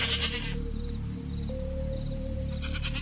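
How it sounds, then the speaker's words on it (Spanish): Several goats bleat in nervous, wavering cries, first a shaky call, then a long thin tone, then more bleats at the end, all over a constant heavy rain-like hiss. "roto únicamente por los balidos nerviosos de las cabras que aún habían sobrevivido a aquel ataque"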